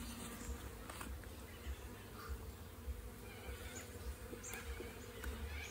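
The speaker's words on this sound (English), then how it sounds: "This one is just showing you the rest of the bees in the bucket there." Honey bees packed in a bucket give off a faint, steady, low buzzing hum. A few light taps and knocks sound through it.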